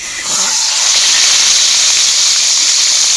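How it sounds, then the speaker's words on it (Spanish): A chicken leg dropped into hot oil sizzles loudly and steadily, a dense, close hiss that rises within the first moment and holds without a break. "El pollo lo colocamos en el aceite caliente."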